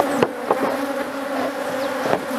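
A honeybee swarm buzzing at a hive while a strong colony is split into two, a steady dense drone with a few louder bees passing close by, with no talk.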